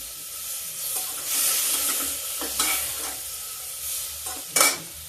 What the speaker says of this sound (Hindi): अब सबको हम धीरे धीरे आंच पे फ्राई कर लेते हैं